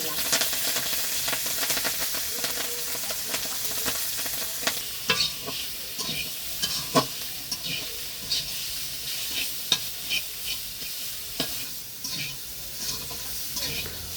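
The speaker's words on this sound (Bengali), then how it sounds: "এখন শাক ভাজা হয়ে গেছে নামিয়ে নিচ্ছি" Leafy greens stir-fry in a pan with a continuous sizzle, while repeated scraping and tapping of a spatula comes through more clearly in the second half.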